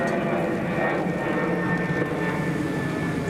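A Ryanair jet comes in to land on runway 25 at Newcastle International Airport in a strong crosswind, a loud steady engine roar and rushing wind noise that fills the whole stretch without pause.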